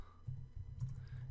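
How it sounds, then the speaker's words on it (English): Light typing on a computer keyboard, a short run of soft, close key clicks over steady low room hum, no voices. "Okay, I'm just typing in some random stuff."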